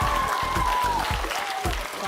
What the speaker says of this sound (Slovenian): Še zadnji aplavz, še zadnja spodbuda za zaključek.